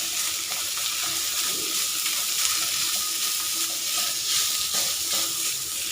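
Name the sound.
stir-frying red curry paste in a pan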